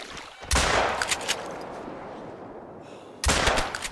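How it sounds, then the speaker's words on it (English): Shotgun blasts aimed at magpie geese in theHunter: Call of the Wild, two sharp loud reports several seconds apart, each trailing off into a fading rumble, with faint background ambience between them. "So I'ma shoot the four first and then I'ma go for a few more."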